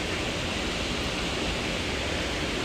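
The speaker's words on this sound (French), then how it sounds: "On a un petit ruisseau." Small stream flowing, a steady dense rush of water that fills the whole stretch evenly and loudly, with no voices over it.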